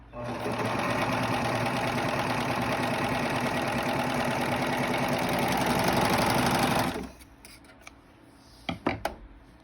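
Sewing machine stitching a sailor bow headband, a steady continuous mechanical whir running loud for about seven seconds before stopping, followed by a few brief handling clicks.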